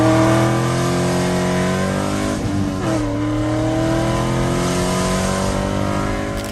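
A C5 Corvette's 5.7-liter LS1 V8 revs loudly and close up, its deep harmonic roar rising, dipping briefly, then climbing and holding steady with no talking.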